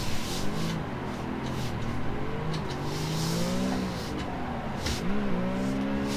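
A car engine revs hard during a clutch-braking drift, its pitch climbing and dropping in repeated swells, loud and close, with no talk over it.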